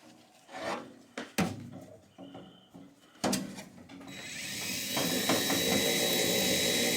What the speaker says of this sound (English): So now he's up top screwing it into the side of the joist to hold it in place.